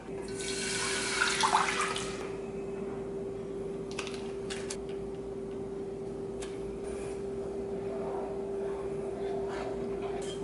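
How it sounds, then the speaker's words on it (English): Rice cakes are rinsed under a running kitchen tap, a steady faint stream of water splashing continuously with a low background hum throughout. "It says to rinse the rice cake under water and drain well."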